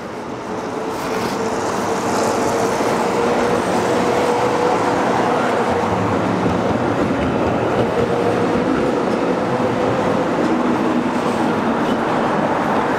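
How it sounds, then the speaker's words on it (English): Old and new trams run along Middle Avenue on Vasilievsky Island, giving a steady, loud rolling rumble with a sustained wheel whine that carries through the whole stretch. "All the way through middle avenue of Vasilievsky Island, the trams, many old school trams, same as the new ones, are riding here"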